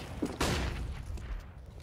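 A grenade blast and a burst of gunfire ring out in a CS:GO match, one sharp, loud explosive crack followed by a fading rumble and scattered distant shots.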